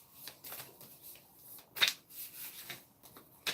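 A small deck of question cards is shuffled by hand, giving a quick run of soft papery riffles and flicks over about three seconds, fairly quiet and close, with no talk.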